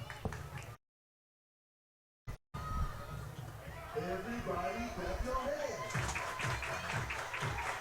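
A crowd at an NC State versus Virginia college softball game applauds and chatters, the clapping coming after a brief dropout and swelling under a commentator's voice.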